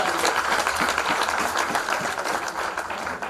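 Audience applause for a youth service worker at a primary school graduation: continuous, dense clapping from a crowd, steady and moderately loud throughout.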